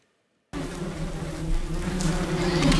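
A bee buzzes in a steady droning hum that begins suddenly after a moment of silence and holds close and continuous, played as an animal-sound quiz clip.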